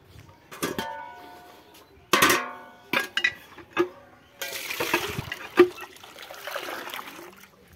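Water is poured onto manured soil around a freshly planted sapling with its whole root ball, coming in several short splashy bursts and trickles at close range, separated by brief pauses.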